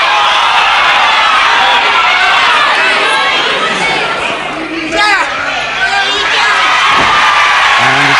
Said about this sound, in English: The crowd shouting, "What about it,